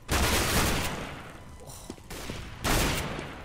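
Gunfire in Counter-Strike: Global Offensive, loud bursts of rapid automatic shots with a brief lull of scattered single cracks before another heavy burst.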